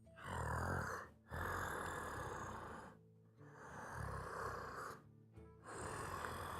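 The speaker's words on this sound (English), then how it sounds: "It sounds to be snoring of a large beast." A large beast snores in a video game, long deep rasping breaths repeated in a slow rhythm, each swelling loud and close, then breaking off briefly before the next.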